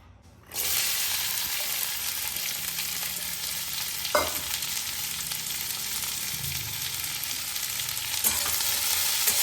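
Cut okra (lady's finger) fries in hot oil, a steady close sizzle running almost the whole time after a quiet start, with a few sharp clicks of stirring.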